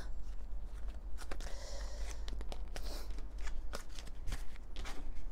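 Tarot cards being shuffled by hand, a busy run of close riffling and flicking bursts with brief pauses, soft and uninterrupted by speech.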